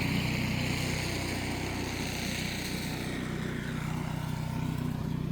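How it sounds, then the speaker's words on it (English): Snow blowers run outside during a blizzard, giving a steady, loud engine drone that holds for the whole stretch with no pauses and no voices. "People walking up and down with snow blowers."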